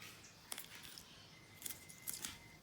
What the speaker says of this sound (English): You're getting ready to cut the feet off.